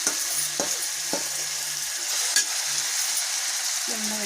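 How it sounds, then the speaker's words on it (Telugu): Marinated green chicken frying in a pan, a continuous close sizzle with occasional clacks and scrapes of a spatula stirring, no talking. "గ్రీన్ చికెన్ మ్యారినేట్ చేసుకుని చికెన్ వేసుకోవాలి."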